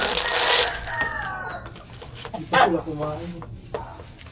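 Chickens make cackling, clucking calls at close range in a domestic yard, with a louder rising call near the middle, over a background of household clatter and faint speech.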